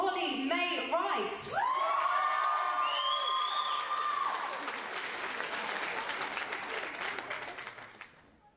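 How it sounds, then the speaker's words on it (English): An audience at a live show applauds and cheers as an act is introduced, with a sustained wash of clapping and a few rising whoops and shouts that gradually die down toward the end. "So please make some noise for Holly May Wright."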